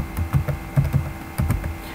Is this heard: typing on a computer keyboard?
yes